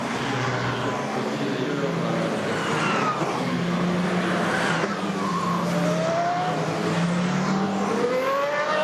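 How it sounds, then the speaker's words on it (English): Race cars on the warm-up lap at the 2009 Le Mans 24 Hours produce a continuous engine roar with rising and falling whines as cars pass, steady and fairly loud throughout. "Cars on the warm-up lap at Le Mans"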